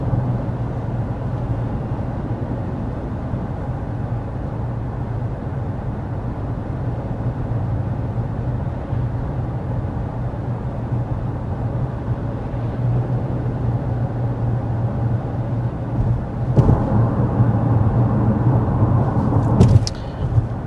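Steady low rumble of road and engine noise inside a 2024 Mazda CX-5 Carbon Turbo cabin at 55 mph, a constant drone with a slight rise and brief rustles near the end.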